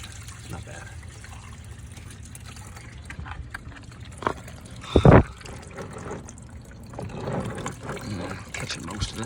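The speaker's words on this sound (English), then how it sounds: "Kind of a shame to let that distilled water just run out" Coolant drains from a 2015 Honda Civic into a drain pan in a steady trickle, with a brief louder gush in the middle and someone talking over it.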